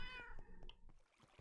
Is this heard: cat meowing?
yes